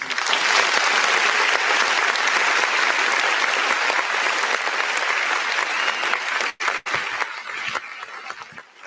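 Dense, sustained applause from an audience honoring event hosts, steady and loud throughout with two brief dips near the end.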